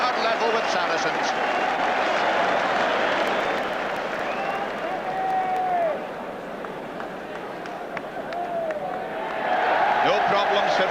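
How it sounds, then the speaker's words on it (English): A large crowd at a 1981 Middlesex Sevens rugby match claps and cheers steadily throughout, loud and dense, easing slightly midway before swelling again, with faint voices mixed in. "Listen to this tremendous crowd support for them"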